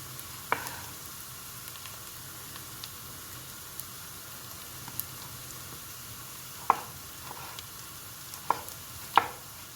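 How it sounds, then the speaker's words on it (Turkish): A knife chopping tomatoes on a board beside a quietly sizzling pan, with a few sparse, sharp cuts spaced out, mostly clustered toward the end, over a low steady frying hiss. "kavrulurken ben de domateslerimi doğruyorum"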